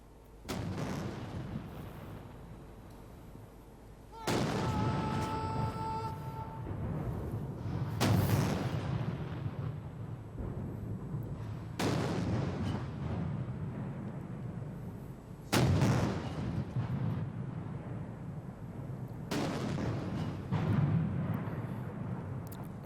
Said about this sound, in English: Fire the gun salute.